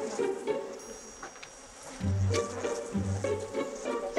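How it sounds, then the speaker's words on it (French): Bees swarm and buzz close by in a steady droning hum, with individual insects passing near in louder low buzzes over a continuous background of flight noise. "C'est de l'abeille, ça, qui vient."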